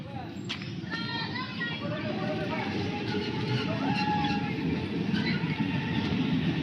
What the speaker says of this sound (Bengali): এখানে আবার ছোট্ট করে একটা ট্রেন আছে, ট্রেন চলছে।